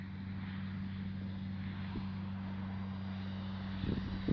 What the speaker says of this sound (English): let's bring the plane, fly it between me and the clubhouse